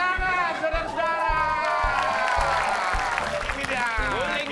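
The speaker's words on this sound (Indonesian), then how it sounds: "Ini dia, tepuk tangan, saudara-saudara." A crowd applauds and cheers for a circus act from Mexico, steady dense clapping with whoops, while an announcer's voice and rhythmic music carry over it.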